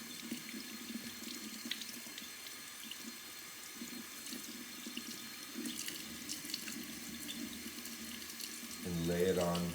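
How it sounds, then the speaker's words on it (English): Cold tap water runs steadily over brined salmon at a kitchen sink, a continuous close splashing stream that swells louder near the end. "I remove the salmon from the brine, run cold water over it,"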